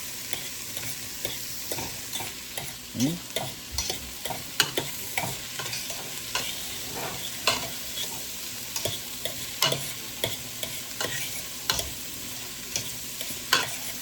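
Ribs and cabbage stir-fry with herbs and spice in a pan, a steady sizzle punctuated by regular scraping and clacking stir strokes, close and moderately quiet, with no talk.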